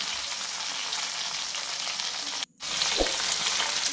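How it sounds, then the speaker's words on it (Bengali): Chillies, five-spice and bay leaves sizzle in hot mustard oil, a steady close hiss of frying that continues with no talk, broken by a brief drop near the middle before resuming. "সরষের তেলটা ভালো করে গরম করে ওর মধ্যে দিয়েছি কয়েকটা লঙ্কা, একটু পাঁচফোড়ন আর কয়েকটা তেজপাতা"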